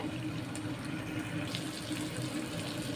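Hands being washed under a running kitchen tap while chicken kala bhuna is being cooked, a steady, close splashing water stream that runs without pause through the whole stretch, with no talking.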